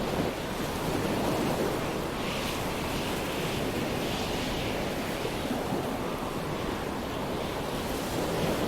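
Steady wind and rolling ocean surf from the Stormworks sea simulation, a continuous broadband rush at even loudness throughout, with no voices.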